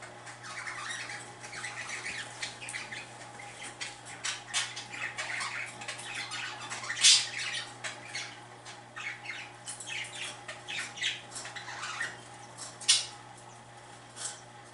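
Young birds squawk and peck at each other in a fledgling cage, with frequent scratchy squawks, rustling and a couple of sharp louder calls over a steady low hum, close by with no talking.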